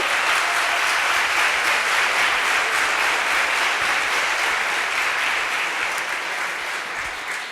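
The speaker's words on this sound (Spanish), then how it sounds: "un aplauso para Juan por eso" A lecture audience in Spain gives a speaker sustained applause, a dense, loud wall of clapping that holds steady for over seven seconds and eases slightly toward the end.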